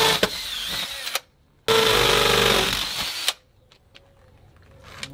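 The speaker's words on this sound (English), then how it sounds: "we're gonna use a hammer drill, and it should go through this thing like butter" A hammer drill bores into a wall to mount a Tesla Wall Connector in two loud close bursts, a harsh rattling grind that starts and stops abruptly, separated by brief silence.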